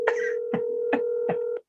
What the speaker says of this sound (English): I will let it ring one more time.